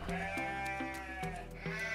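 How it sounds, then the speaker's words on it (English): Sheep bleat repeatedly in shearing-shed yards on an outback station, several wavering nasal calls overlapping one another at close to moderate distance, with no talk. "Dogs barked and sheep bleated as stockmen put the last of the sheep in the yards."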